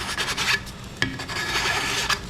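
A Nicholson double-cut bastard file rasps against a scavenged aluminum can, giving repeated close scraping strokes with a sharp metallic catch around the middle, with no talking.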